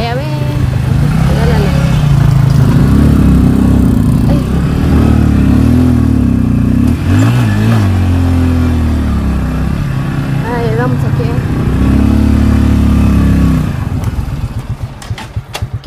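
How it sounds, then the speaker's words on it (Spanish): A motorcycle engine runs close by throughout, a loud steady idle with rises and dips in revs, while people talk over it in Spanish. "¿De qué es esa moto, ve?"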